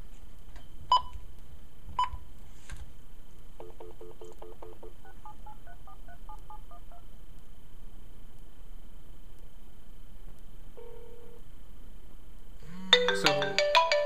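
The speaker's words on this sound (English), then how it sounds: "So I'm calling from my home, the iPhone is ringing" A locked iPhone rings with an incoming call placed from a home phone, preceded by a short run of dial-tone beeps; the ringtone enters near the end as a bright, steady electronic chime, loud and close, with no talking.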